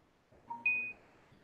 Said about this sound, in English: My phone won't shut the fuck up.